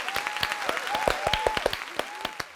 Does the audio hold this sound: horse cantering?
no